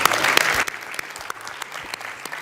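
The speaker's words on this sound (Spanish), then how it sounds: "aplauso para Nico, por favor." Applause at a coffee expo talk in Uruguay: a burst of crowd clapping that quickly thins out into a few scattered individual claps.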